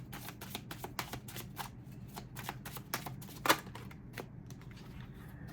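Tarot cards being shuffled by hand produce quick, crisp riffling bursts with one sharper snap midway, close and fairly quiet, with no talking.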